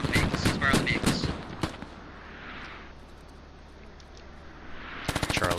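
Machine gun suppressing fire in the military game Squad, a rapid rattling burst of shots in the opening seconds, then a quieter hiss, and a second loud burst near the end.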